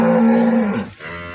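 A cow lets out a single close, clear moo that starts strong, falls away and ends with a shorter grunting tail.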